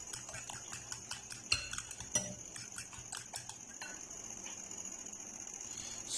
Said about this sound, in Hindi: और इन सब चीज़ों को अच्छी तरह मिक्स कर लेंगे।